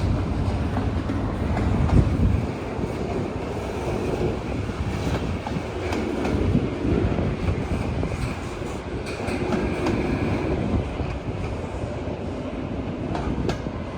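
Intermodal freight train passing on the railroad at an overlook, a continuous loud rumble with steady rolling wheel noise and faint clickety-clack, sustained throughout with no talk.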